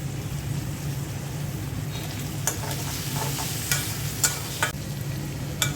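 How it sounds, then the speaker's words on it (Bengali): Spices fried with onion and shrimp in a pan give a steady close sizzle, broken by several sharp scraping stirs of a spoon across the pan, with no talking. "মশলাটা আমি পেঁয়াজ আর চিংড়ি মাছের সাথে ভেজে ভেজে নিচ্ছি"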